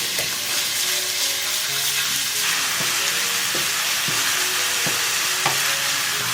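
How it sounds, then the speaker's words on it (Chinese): Minced beef and pork belly sizzle and stir-fry in hot oil in a wok, a steady loud frying hiss broken by regular scraping clinks of the spatula. "把我们的肉呢放进来炒香"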